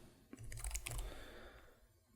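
Keys clatter on a computer keyboard in a quick, close burst of typing that lasts about a second, then fades into quiet room tone.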